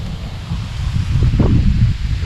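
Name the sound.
strong wind outdoors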